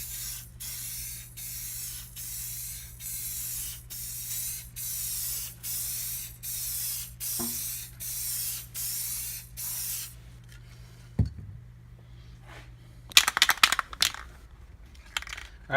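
Clear coat paint is sprayed onto a Polaris XCR 440 snowmobile in a rhythmic series of short, even hissing bursts about half a second apart. A low hum runs under them, followed by a few clattering handling noises near the end.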